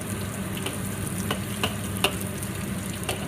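Honey chicken fries in a pan with a continuous close sizzle, while a utensil stirring it adds faint scattered clicks.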